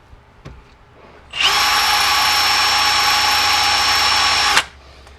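A power drill with a dull bit whines steadily at high speed for about three seconds, spinning without biting into the material, loud and close, with faint background noise before and after.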